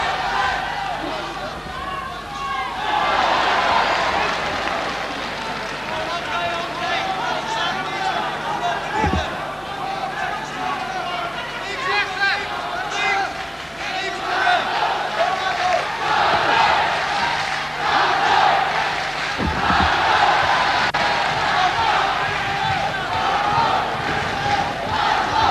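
Crowd at a Holland versus Japan kickboxing event roaring and shouting encouragement at the fighters, a dense, sustained wall of cheering with surges, lasting throughout while a commentator talks over it.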